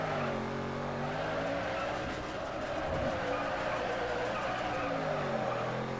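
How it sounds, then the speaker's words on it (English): A car engine in the racing video game Need for Speed: Underground 2 drones loudly and continuously with a harmonic engine tone, tire squeal blending in as the car drifts. "I also love this engine sound."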